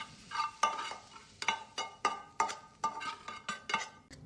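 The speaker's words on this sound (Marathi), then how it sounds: "तर आता आपण हा तडका बटाट्यावर टाकून घेऊया." Hot tadka tempering poured over boiled potatoes for vada pav filling, giving a run of sharp sizzling crackles and stirring scrapes in a steady rhythm, fairly close, with no talking.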